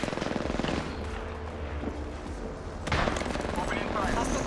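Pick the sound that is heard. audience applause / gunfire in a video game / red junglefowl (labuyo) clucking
gunfire in a video game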